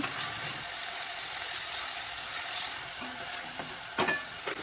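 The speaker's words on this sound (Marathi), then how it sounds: "दीड ते दोन मिनटं छान असे तेलामध्ये आपण ते परतून घेणार आहोत" Tomato sautés in oil in a pan for a ridge gourd curry, giving a dense, even sizzle with a couple of sharp spatula taps near the end.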